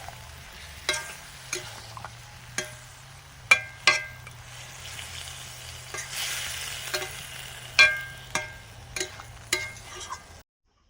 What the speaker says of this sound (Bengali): ভাজা বোয়াল মাছগুলো দিয়ে দিলাম।